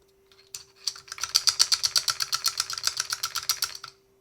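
Typing on a QK Alice Duo split keyboard with tenting and a real space bar, a steady run of crisp, close keystrokes at an even rhythm over a faint constant hum, with no talking.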